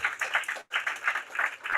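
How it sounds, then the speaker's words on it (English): Group clapping at a company rally honoring regional vice presidents, steady close clapping in pulsing waves with a brief break partway through, fairly quiet overall. "give these guys a round of applause, all the regional vice presidents"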